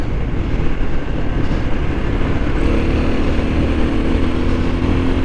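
Carbureted motorcycle running steadily on a high mountain road, a continuous loud engine drone with wind rush, holding a constant note as it sweeps through curves.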